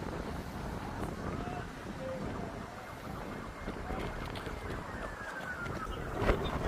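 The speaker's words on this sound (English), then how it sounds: "the wind's starting to pick up now" Wind gusts across open ground at Albert Park Lake in a continuous broad rushing roar, buffeting close and loud, with faint traffic beneath.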